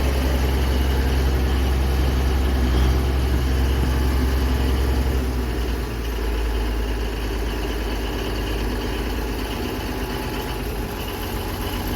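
A turbocharged engine in a manual-transmission vehicle idles nearby, a loud, steady low rumble holding throughout with no talk over it.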